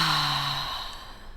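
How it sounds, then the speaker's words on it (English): A single audible exhale through an open mouth during a beginner yoga breathing exercise, a soft breathy sigh that fades over about a second. "A couple more breaths, inhaling through the nose and exhaling through an open mouth."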